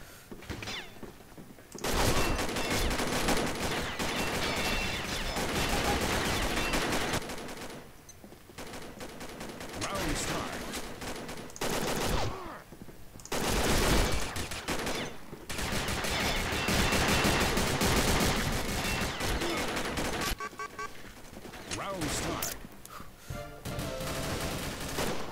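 Sustained gunfire from a PP19 submachine gun and pistols in the shooter game Combat Arms, dense rapid bursts running almost continuously, broken by a few short pauses.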